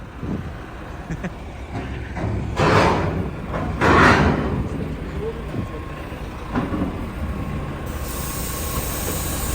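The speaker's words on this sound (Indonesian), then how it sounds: "Nih, suspensinya diturunin. Kedengeran nggak suara anginnya?" A double-decker bus lowers its air suspension, releasing two strong bursts of hissing air over a rumbling vehicle background, followed by a fainter hiss near the end.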